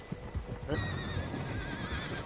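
Several horses in a video game whinny loudly and close, a long wavering neigh rising over steady clip-clopping hooves and outdoor ambience.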